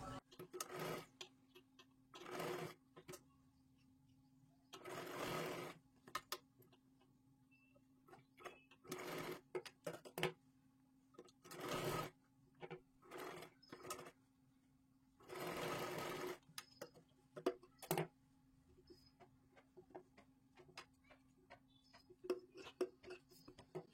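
A sewing machine stitches a blouse sleeve in several separate bursts of rapid mechanical whirring, each lasting a second or two, with quiet pauses and soft handling clicks between the runs.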